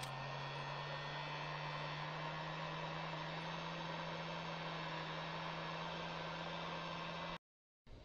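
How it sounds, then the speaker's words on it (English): A heat gun shrinks heat shrink tubing on a DIY rock light wiring harness. It makes a steady, even blowing roar with a low hum underneath, then cuts off abruptly near the end. "shrink the heat shrink on."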